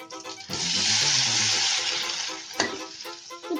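Onion and tomato dropped into melted butter in a mini cooker burst into a loud, sustained sizzle with a sharp clink partway through, then the frying settles into a softer crackle.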